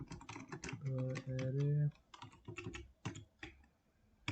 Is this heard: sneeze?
no